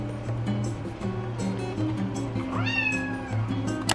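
A kitten meows repeatedly at close range during a fostering stay, its short cries forming a series with one rising, drawn-out call near the end, over low background hum.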